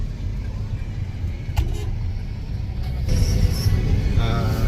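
A Toyota Veloz seven-seater rumbles steadily along during a test drive, its engine and road noise heard from inside the cabin as a continuous low drone that swells slightly toward the end.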